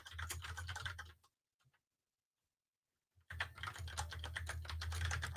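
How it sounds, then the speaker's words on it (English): Rapid clattering keystrokes on a computer keyboard as an SSH password is typed, a dense burst for about a second, then near silence for two seconds before the fast typing resumes steadily to the end. "I'm typing too fast and getting my password wrong"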